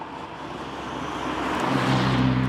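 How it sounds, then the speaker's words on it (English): A 35-year-old Saab 900 Turbo Carlsson hums along while driving, its engine and road noise building steadily louder and deeper as it pulls, heard from inside without talk. "The engine still pulls massively strong."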